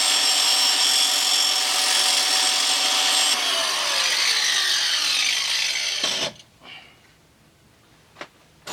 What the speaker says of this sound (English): I may need to grind on it with the angle grinder a little bit just to get a better grip